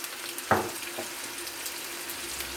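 A pot of assorted vegetable stew with chicken breast and fennel seed sizzles with a steady soft hiss, broken by one sharp clatter and a fainter knock, with no talking.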